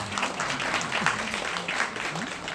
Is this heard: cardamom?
no